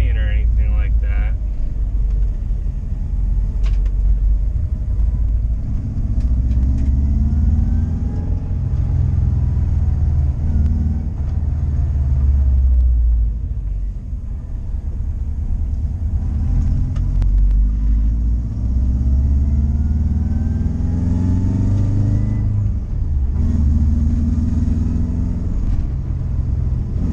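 A Subaru Outback XT rally build with a swapped JDM transmission pulls along in second gear, its engine droning low and steady with rising and falling revs, road rumble heard from inside the cabin, and someone talking over it.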